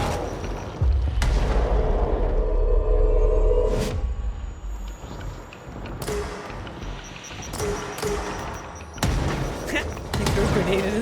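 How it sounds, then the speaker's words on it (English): A grenade blast in the game Control gives a deep rumbling boom, followed by more booms, impacts and gunfire-like cracks in a loud, chaotic firefight. "He threw a grenade in his face."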